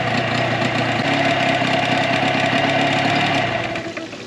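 A Tohatsu 9.8 outboard motor runs steadily at a close, loud idle with a continuous rumbling drone, easing off slightly near the end.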